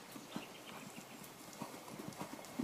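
Hooves of a horse being ridden in a lesson, clip-clopping in a steady rhythm, soft and somewhat distant, with no talk over them.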